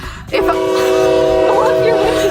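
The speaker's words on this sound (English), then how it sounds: "But there's a train" A loud train horn blares with steady, sustained tones close by as a train passes in Fort Collins, sounding continuously over rumbling rail noise.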